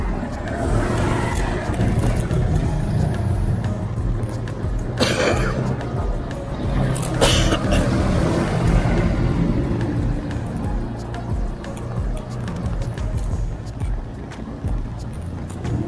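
Cars roll past continuously on a busy Manila street, a loud, close, unbroken traffic wash with a couple of sharper passing swells and faint voices underneath.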